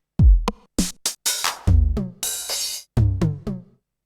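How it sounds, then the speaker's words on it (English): Roland TR-909 drum sounds triggered from pads on a Roland MV production studio: punchy kicks, snappy hits and a bright noisy crash, struck one at a time in an uneven sequence, loud and close. "If I play the pads, we should hear this TR-909."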